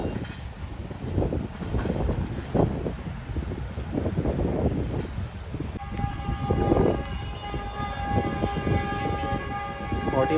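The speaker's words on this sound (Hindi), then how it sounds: "अब कराकोरम एक्सप्रेस आ चुकी है G4935 के साथ। भाभी जी रेलवे स्टेशन से गुजरेगी।" Karakoram Express passenger train rolling through Dabheji railway station, a steady loud rumble of wheels and carriages with a sustained horn-like tonal wail entering partway and holding to the end.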